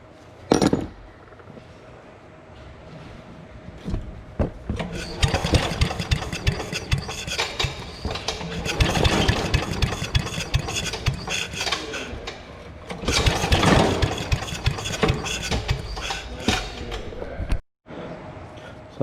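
An 8 HP Briggs and Stratton chipper engine, unstarted for ten years, is pull-started with the choke on: loud, rough sputtering bursts of engine noise close by, surging and fading several times before cutting out near the end.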